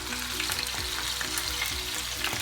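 Close, loud sizzling of salmon frying in a pan, a dense continuous crackle with repeated light scraping strokes of stirring, no voices over it.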